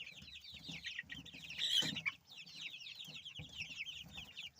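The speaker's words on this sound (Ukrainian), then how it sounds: "Отакі тут у мене курочки." A flock of backyard hens clucks and chirps in a farmyard pen with sand on the ground, with steady overlapping calls, one louder squawk in the middle, and no talking.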